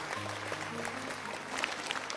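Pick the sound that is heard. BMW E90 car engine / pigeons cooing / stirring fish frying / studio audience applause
studio audience applause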